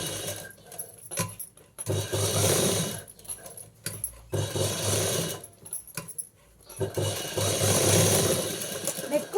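A sewing machine stitching a blouse runs in several bursts of steady mechanical whirring, close and fairly loud, separated by short pauses.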